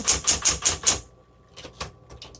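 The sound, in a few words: typing on a 1960s Smith Corona Coronet electric typewriter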